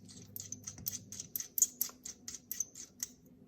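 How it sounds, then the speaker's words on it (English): A small cap screwed back onto a nail product bottle gives a quick run of about a dozen tiny, close, crisp ticking clicks in an even rhythm. "So I'll just screw this back on for a minute."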